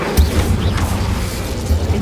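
A fire spell is cast in Hogwarts Legacy, with sharp booming bursts at the start and again near the end over a low rumble.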